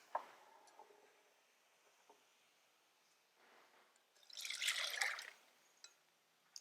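Water drains from rinsed butternut squash seeds in a strainer, first as faint drips and small trickles, then as a short, brighter splashing pour in the middle before easing back to scattered drips.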